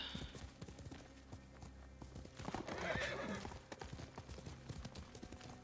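Rhythmic hoofbeats clip-clop steadily as a horse moves quickly, with a whinny partway through and busy game-like background sounds, in the video game Ghost of Tsushima.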